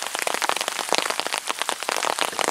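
Rain falls on a creek, a dense, continuous patter of drops hitting water, close and fairly loud, with no voices over it.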